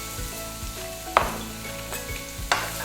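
Thinly sliced onion and carrot fry in a teaspoon of oil in a pan, giving a steady close sizzle with soft scraping stirs and two sharper clacks of a utensil against the pan.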